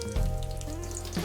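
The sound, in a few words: thinly sliced onion frying in hot oil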